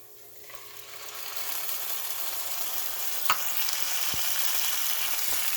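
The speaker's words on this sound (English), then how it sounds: "Oil in the pan, and then add the chopped onion and add some fennel seeds" Chopped onion, fennel seeds and ground tomato fry in hot oil in a pan for Indian street-food mushroom chilli, giving a steady, soft sizzle that builds slightly, with a brief stirring clatter partway through.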